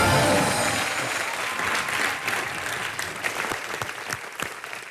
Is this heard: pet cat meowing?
no